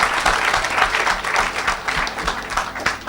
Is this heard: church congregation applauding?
yes